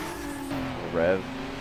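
A car engine in the racing game Need for Speed Underground revs high and climbs in pitch, a brief rising whine over a steady engine drone, with a voice speaking over it.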